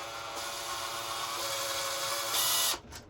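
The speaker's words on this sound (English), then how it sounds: "drill it out one more size." A power drill whines steadily while boring a hole in a Tamiya RC dump truck part, rising in pitch near the end before cutting off, close and loud.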